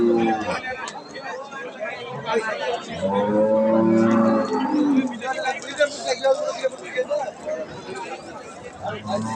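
Cattle moo repeatedly at Ambari cattle market, long, loud lowing calls rising over the background chatter of a crowd of people talking.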